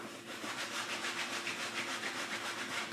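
Fabric of Kuiu hunting pants rustling in a steady, brushing rhythm as the legs move, a continuous soft swishing close by with no voices.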